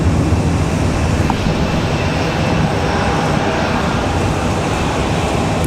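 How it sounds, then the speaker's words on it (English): A Spirit airliner takes off from Raleigh-Durham on a windy day, giving a loud, continuous low rumble with gusty broadband noise that holds steady throughout. "There it is, Spirit 2. Spirit's headed to Miami"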